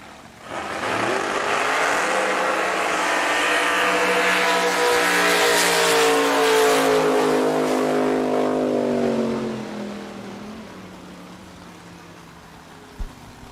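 Drag racing cars in Performance HVAC and Manufactured Money livery launch side by side down the strip, a loud sustained engine roar that climbs in pitch as they accelerate away, then fades into the distance, ending with a sharp knock.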